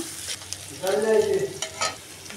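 Chopped onion and garlic frying in oil in a pan, a steady close sizzle that swells as the pieces are stirred, with stirring scrapes and no talk.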